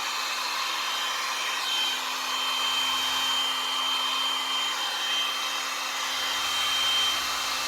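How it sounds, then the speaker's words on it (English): A heat gun blows a steady, even airflow over thickening resin art on a cradle board with mica powders and alcohol inks, a constant hairdryer-like whoosh with a faint hum and no talk. "Heat gun, sorry, heat gun. Let's just move some of that around."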